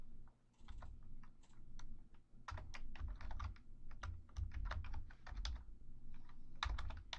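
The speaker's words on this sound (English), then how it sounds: "You can type in any words you want." Steady typing on a computer keyboard, with rapid clustered key clicks in uneven bursts, a few short pauses and no voices, set over a faint low hum.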